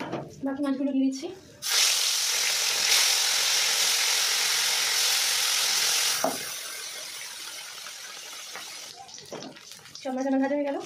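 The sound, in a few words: fish frying in hot oil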